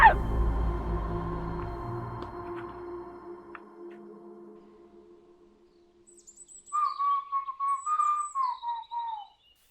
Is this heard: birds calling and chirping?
yes